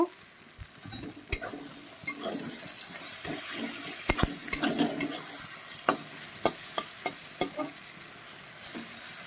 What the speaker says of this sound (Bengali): খুব সুন্দর করে আমি ফোড়নটা ভেজে নিয়েছি